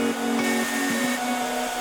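A hair dryer blows heat onto vinyl being wrapped around the corner of a custom Yamaha HS8 speaker cabinet, a loud, steady close-up whooshing drone with a low hum.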